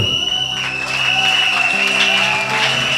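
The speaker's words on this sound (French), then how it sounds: "Ton acclamation est timide." A church congregation at an ordination service claps and cheers, a broad wash of crowd noise with a sustained tone ringing above it throughout.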